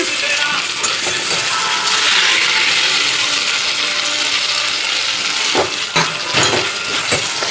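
Mutton pieces sizzle and spit in a hot pan for mutton curry with papaya and potato, a steady dense frying hiss throughout, broken near the end by a few louder clatters of stirring.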